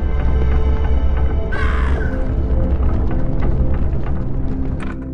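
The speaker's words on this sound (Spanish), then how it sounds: "Vamos a aprovechar ahorita que el cuervo está subiendo" A crow caws in the Monument Valley puzzle game, a single harsh call rising over a steady, loud musical and ambient bed, with no speech.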